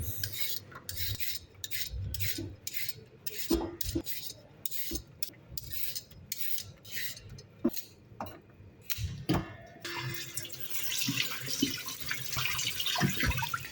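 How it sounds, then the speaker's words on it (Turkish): Carrots being peeled with a peeler, a series of quick rasping scraping strokes in an uneven rhythm, close and moderately loud, followed by running tap water and clatter near the end. "Şimdi havuçları soyuyoruz."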